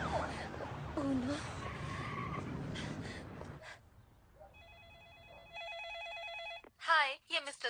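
A telephone rings in a tense film scene, its electronic trill repeating in short bursts after a stretch of loud action noise and voices, followed by a near, shrill skidding squeal.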